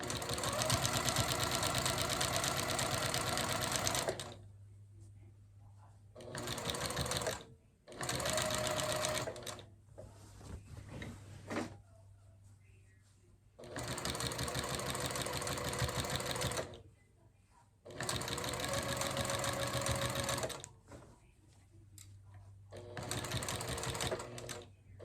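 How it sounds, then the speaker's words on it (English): A sewing machine stitches quilt binding at a quarter-inch seam in several loud, steady runs of rapid whirring, broken by short pauses and quick back-stitches, with a faint low hum between bursts. "sewing at 1/4 inch."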